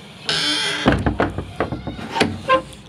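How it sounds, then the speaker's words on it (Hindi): A farmyard door is pulled shut with a long creak and several wooden thunks and knocks, while sheep or goats bleat close by. "मैं चला जाता हूँ दरवाज़ा बंद कर देता हूँ"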